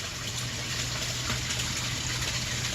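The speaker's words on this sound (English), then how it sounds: "Waterfall and the filter's on." A garden pond waterfall runs with its filter on, giving a steady, close rushing of falling water with a low pump hum beneath, unbroken throughout.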